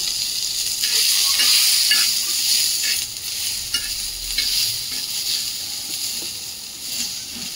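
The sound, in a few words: onion roasting in a pan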